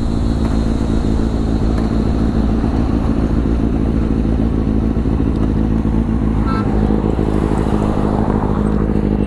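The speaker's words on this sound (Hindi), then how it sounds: "तो अभी प्रकाश चला रहा है मेरा बाइक और मैं चला रहा हूँ प्रकाश का बाइक" Sport motorcycles on a fast group Sunday ride, such as a Kawasaki Z800 or Ninja 650, heard as a steady, loud engine drone with wind roar throughout, the pitch holding fairly constant while cruising.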